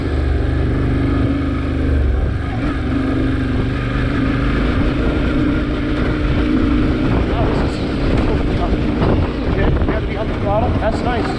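A Yamaha Tenere 700 motorcycle climbs uphill off-road, its engine droning steadily and loudly up close beneath heavy wind rush on the microphone, with a rider's voice faintly mixed in.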